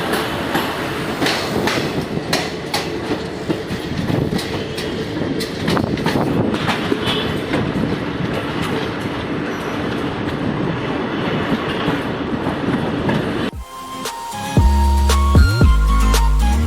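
The Shramjivi Express departs Bihta station, rumbling and clattering loudly close by for a long stretch, wheels clacking rhythmically, before the noise abruptly cuts off.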